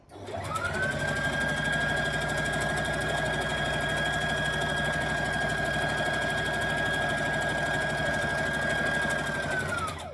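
Sewing machine running continuously while stitching a dress seam across to the side seam, a steady close mechanical whir with rapid needle rhythm and a constant high whine, starting and stopping cleanly, no voices.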